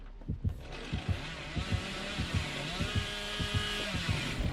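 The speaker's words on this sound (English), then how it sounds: "Costco revving his chainsaw" A chainsaw revs continuously in the video game Dead by Daylight, a steady buzzing drone with rhythmic low thumps underneath, lasting several seconds without talk.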